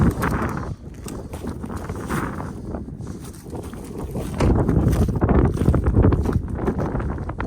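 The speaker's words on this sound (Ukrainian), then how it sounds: "Ох, і вітер тут." Wind gusting across an open soybean field during sowing, loud rumbling buffets against the microphone that rise and fall, strongest toward the end.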